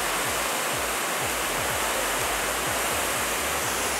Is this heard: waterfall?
yes